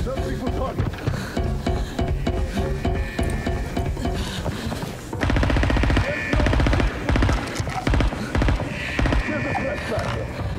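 Rapid bursts of automatic gunfire from a bot in the shooter Arena Breakout, loud and dense, heard amid game noise with a voice talking over it.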